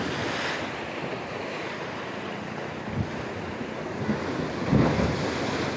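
Ocean surf at Rawai Beach, Phuket, makes a steady broad wash of waves under heavy wind buffeting, with a few louder surges near the end.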